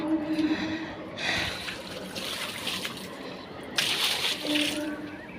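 Water splashes and trickles while a pet is bathed on a hot day, with gentle sloshing and dribbling at moderate volume and a couple of louder bursts of pouring.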